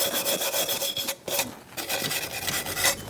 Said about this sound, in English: let's clean up our surfaces where the shoes need to move.